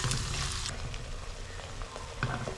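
Coconut pieces frying in a pan for Kerala-style beef fry are stirred, giving a steady close sizzle with a few scraping bursts from the stirring. No one speaks.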